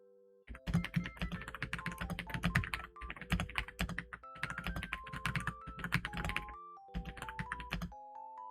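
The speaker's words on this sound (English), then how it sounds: "I believe I was typing over here." Rapid keystrokes clatter on a computer keyboard in quick, uneven bursts with short pauses between runs. The typing is close and fairly quiet, with bright pitched tones sounding along with the clicks and no talking.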